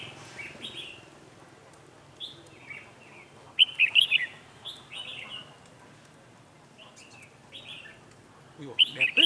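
Red-whiskered bulbuls call at a bird trap outdoors, bright chirps and short warbling phrases in scattered bursts, some near and fairly loud, over quiet background with faint low murmuring.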